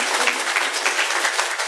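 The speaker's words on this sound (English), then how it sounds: "give her a huge round of applause" A conference audience applauds a speaker taking the main stage for her first talk, steady dense clapping filling the whole stretch at an even level with no voices on top.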